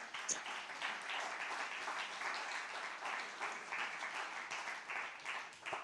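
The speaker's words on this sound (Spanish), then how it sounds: "Denle un aplauso gigante a Dios." A church congregation applauds together, a steady, fairly soft wash of clapping from a large room that holds even throughout without speech over it.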